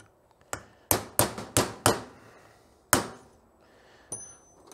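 Sharp metallic hammer blows strike a punch to drive the pins from a Honda GL1100 Goldwing front brake caliper, about six loud close hits in an uneven rhythm, with a faint ringing ping near the end.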